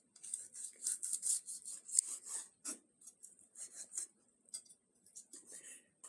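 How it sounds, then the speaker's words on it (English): A razor-sharp knife slicing through a cooked steak makes soft, fine rubbing and rasping strokes in quick bursts, faint and close, with brief pauses between passes. "I'm just going to cut this steak right across the middle with this razor sharp knife"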